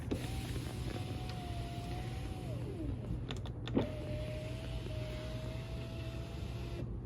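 A newly installed window on a rebuilt, previously totaled Tesla whirs smoothly up and down twice with its electric motor, quiet and close, with a small click between the two runs.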